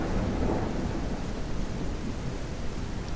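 Steady heavy rain hisses alongside a low, continuous rumble of thunder in the video game Gothic 1 Unreal Engine, loud and enveloping with no voices.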